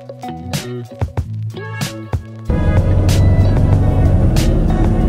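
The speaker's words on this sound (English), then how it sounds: "Driving into Moab" A car drives into Moab, Utah, its engine and road noise steady and loud, jumping to a dense, constant rush halfway through, heard alone without talk.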